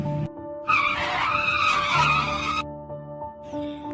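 A car screeches to a sudden stop in a cartoon sound effect, a loud tire skid lasting about two seconds over a background music bed, then cutting off.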